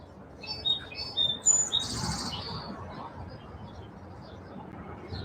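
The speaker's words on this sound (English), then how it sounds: "Sometimes it's just nice to listen to the birds" Birds chirp and tweet in short, bright calls over a low outdoor rumble, busiest early on before fading to sparse distant notes.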